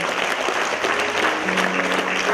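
Audience applause at a dance performance, dense steady clapping from a crowd, close and loud with no pause.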